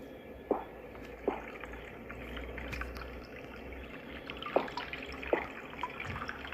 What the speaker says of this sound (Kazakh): кран ғой